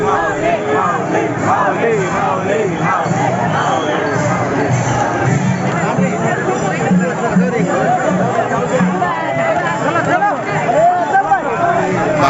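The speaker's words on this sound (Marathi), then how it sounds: "लोकांची भाविक भक्तांची खूप गर्दी झालेली आहे" A huge crowd of devotees at the Pandharpur pilgrimage during Aashadhi Ekadashi fills the air with loud, continuous chatter and shouting, a dense babble of voices close around with no pause.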